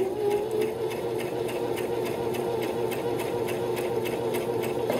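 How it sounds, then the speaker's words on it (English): Sewing machine running steadily while sewing a straight stitch, a close, even rapid needle clatter with a constant motor hum and no pauses. "Keep sewing."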